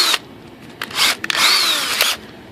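A power drill with a bit bores a hole in a Volantex Phoenix Evolution RC plane part, loud and close, in several short whirring bursts separated by brief pauses, with no talking.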